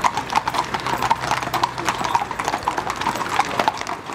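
Police mounted-unit horses clip-clop at a steady walking rhythm, hooves striking a hard surface repeatedly and fairly close, with faint background noise and no talk.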